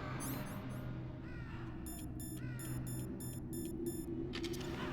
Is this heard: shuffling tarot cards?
no